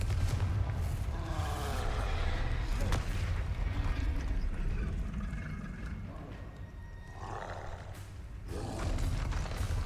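Confringo spell blasts in the Hogwarts Legacy video game, heard as loud, dense booming explosions that roar continuously through the clip, with a few sharper bursts standing out.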